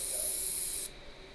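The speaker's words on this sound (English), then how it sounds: "So just spraying it on nice and thick." Spray gun hissing out stone guard chip coating onto a VW Golf in a shark blue paint job, a loud steady close-up spray that cuts off abruptly near the end, leaving quiet room tone.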